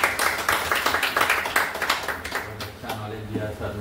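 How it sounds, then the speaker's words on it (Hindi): Audience clapping at a weekly business meeting in a hall, a burst of many hands in quick, dense rhythm that tapers off after a few seconds, with a low hum and some faint voices underneath. "इतना बढ़िया नॉलेज देने के लिए तालियां बजाते हैं हम लोग"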